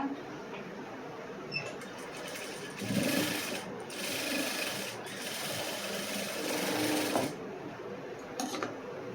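Sewing machine running in short bursts while stitching a cross-cut blouse, a steady close whirring with brief pauses between runs, with faint background sounds.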